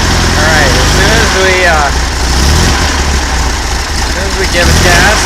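An 1800 engine with a stock distributor runs and revs, a steady loud mechanical drone with rising and falling pitch sweeps as the throttle is blipped, recorded up close.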